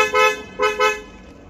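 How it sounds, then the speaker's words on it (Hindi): The horn of a 2020 Hyundai Creta 1.5 diesel base model honks three short times in quick succession, close and loud. "और कार का हॉर्न सुनना हो तो"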